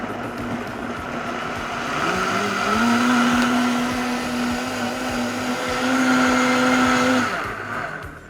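A Vitamix blender runs steadily at high speed, setting 10, blending hot soup with a loud, continuous whir whose pitch rises early on and then holds for several seconds, surging slightly as it churns.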